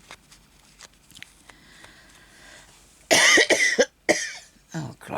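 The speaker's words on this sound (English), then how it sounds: "Now I'm going to start coughing" A person coughs in a loud, harsh burst of several close coughs, preceded by quiet rustling and small handling sounds indoors, with a brief pause and one more cough at the end.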